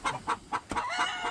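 Rhode Island Red hens squawking in a coop as eggs are pulled from under them, a quick run of four or five loud, agitated clucks close by, with no talking.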